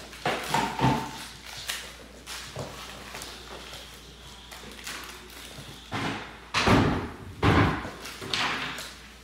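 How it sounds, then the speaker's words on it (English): Doors are opened and shut indoors during a beagle's place-and-down training, giving several loud, close thuds and slams spread unevenly, with quieter handling noises between them. "Opening up doors, seeing what'll get her to trigger"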